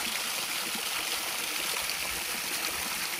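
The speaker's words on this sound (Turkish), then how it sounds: "İşte şelale. Ufak da olsa harika görünüyor." A small waterfall spilling over rocks beside a path in an underground city in Adana, a continuous broadband rushing and splashing of water, close and steady throughout.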